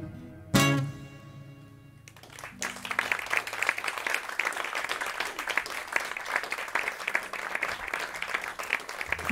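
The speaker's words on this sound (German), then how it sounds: "Vielen Dank für den Applaus" A concert audience at a live café-style music show breaks into applause right after a song ends: a brief ringing final note and a short lull, then dense, steady clapping that stays loud and even through the rest.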